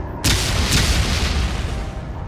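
A grenade blast in the sci-fi shooter Dead Effect 2 hits with a sudden loud boom, then a long rumbling roar and debris that stays heavy and close for the remaining two seconds.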